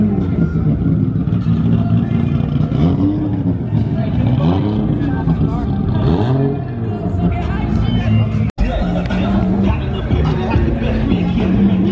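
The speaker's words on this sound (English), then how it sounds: "That's the car you guys are listening to right now." A car engine runs steadily throughout at a police academy Toys for Tots event, a loud low rumble with some revving, while people talk over it.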